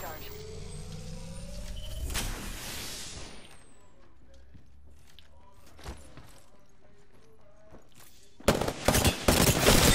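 Apex Legends video game gunfire: a burst near the start, a single crack midway, then dense rapid automatic fire in the last stretch, loud and close, with a voice faintly underneath.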